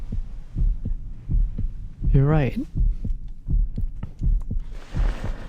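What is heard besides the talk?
heartbeat pounding, from the video game Reverse 1999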